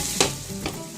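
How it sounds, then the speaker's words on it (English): Potatoes and cauliflower for aloo gobi stirred in a pan: a short scrape of the spoon, then a second softer stroke, over a low steady sizzle, close up with no voices. "give this a good mix."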